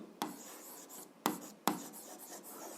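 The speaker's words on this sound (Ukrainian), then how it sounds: "Запишемо це." An algebra solution is written by hand with a scratchy pen or pencil stroke on paper, close and quiet, broken by three sharp taps.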